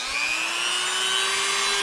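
A handheld power drill enlarging holes in a part for a Mongoose bicycle motor conversion, running in a steady high whine with the pitch rising slowly, close and loud with no talking.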